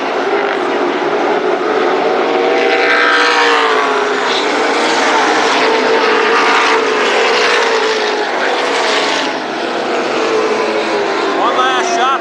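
Race cars at Berlin Raceway during a 1999 super sprints, late models and sportsman program, a loud sustained engine roar that rises and falls as cars pass, with an announcer talking over it.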